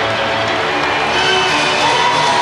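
Crowd in a basketball arena at a 1995 NBA Finals game between the Houston Rockets and Orlando Magic roaring and cheering in a steady, loud, dense wash that holds throughout without a break.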